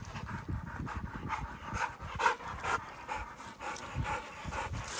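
Dogs at a kennel pant and shuffle nearby, with soft rhythmic breathing and scattered movement noises continuing throughout.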